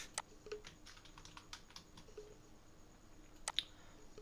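Quiet, close typing on a computer keyboard, a few sparse key clicks spread across a few seconds over a soft room hiss.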